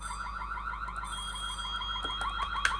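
An alarm sounds in the Korean high-school horror video game White Day, a continuous warbling, repeating siren tone at moderate level with a few sharp electronic blips near the end, no voices.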